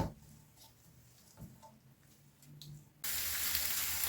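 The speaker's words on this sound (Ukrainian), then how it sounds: "Смажу на великому вогні до золотистого кольору." Onion fries in a pan over high heat: low sizzling and faint crackles, building into a loud, steady frying hiss near the end.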